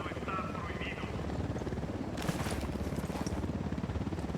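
An enemy Unidad helicopter in the video game Ghost Recon Wildlands thrums overhead with a steady rapid rotor chop, loud and continuous, under a brief burst of game noise.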